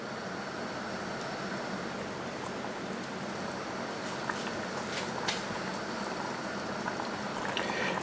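A pan of tomato sauce made with reduced crab stock simmers gently and steadily, with a soft, continuous bubbling hiss and a few faint clinks near the middle.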